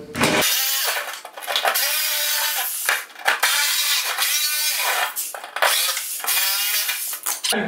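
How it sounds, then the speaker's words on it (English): A jigsaw cuts an electrical box hole in wood paneling, buzzing loudly in repeated bursts, with brief pauses between cuts and no talking. "so I'm going to use a jigsaw"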